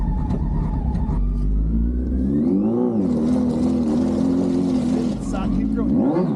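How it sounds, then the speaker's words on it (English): Minitruck engine revving as the throttle is blipped, loud rising and falling engine swells close by, with people talking over it. "you might have to blip the throttle"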